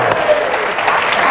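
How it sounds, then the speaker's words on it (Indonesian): Studio audience applause on an Indonesian television talk show, a dense and loud wash of clapping filling the whole short moment. "Tepuk tangan sekali gitu."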